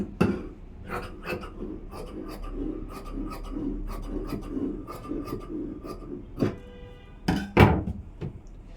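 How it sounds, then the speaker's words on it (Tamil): Scissors snip through blouse fabric in a series of short, rasping cuts close by, with occasional soft knocks on a work surface. "இதை வந்து நான் ஸ்ட்ரைட்டாக கட்டிங் பண்ணிக்கிறேன்"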